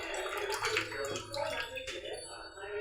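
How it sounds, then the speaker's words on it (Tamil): Tamarind being dissolved by hand in water for fish curry: soft sloshing and squelching water, continuous and close, with gentle drips and gurgles, under nearby voices talking. "புளி கரைச்சி இப்போ தான் கரைச்சிக்கிட்டு இருக்காங்க."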